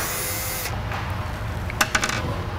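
A power tool drives out screws from a lid stay bracket on a cabinet top, giving a steady whirring buzz for most of the stretch, then a few short sharp clicks and clacks near the end, close and fairly loud with no talking.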